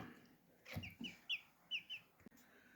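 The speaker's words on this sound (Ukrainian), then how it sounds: "А це курчата такі. Це бройлери." Several short, high-pitched cheeps from day-old broiler chicks in quick succession, fairly close, with a soft thump early on and no voices.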